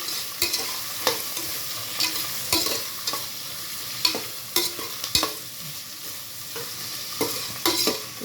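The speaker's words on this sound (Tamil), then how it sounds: "இப்போ இது நல்லா இந்த ஆயிலில் மிக்ஸ் பண்ணுறோம்" Jeera samba rice for mutton biryani is stirred through hot oil in a pan, with a steady bright sizzle and repeated close scraping strokes of a spoon at an irregular rhythm.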